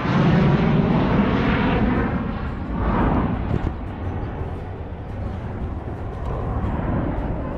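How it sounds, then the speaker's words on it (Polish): An M-346 Bielik jet trainer passes over an air show at Dęblin, its engines a loud, steady roar that swells and then holds throughout. "kolejny samolot, jaki został zaprezentowany na dzisiejszym pikniku, to M346 Bielik"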